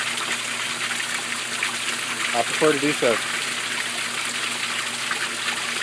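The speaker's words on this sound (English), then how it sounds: "I'm flowing a lot of water through that unit" Water flows steadily through a Cetus Sieve unit as a constant rushing gush, with someone speaking briefly over it partway through.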